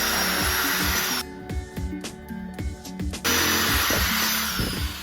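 A power drill whirs in a couple of short bursts, drilling holes in panels of an Opel Kadett van, between louder workshop noise, close by.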